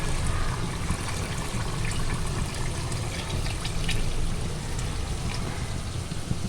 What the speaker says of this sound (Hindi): अब इसमें जो है मैंने यखनी डालनी है।